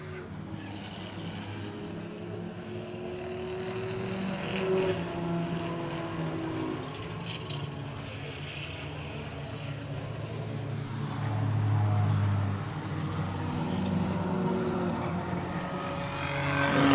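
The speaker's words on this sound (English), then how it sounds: "Still hear that muffler dragging on the 21 of Roy Glidden" Roy Glidden's number 21 race car drags a loose muffler at an oval-track enduro in 2023, its scraping mixed into a steady, loud roar of racing engines that swells slightly around the middle and again at the end.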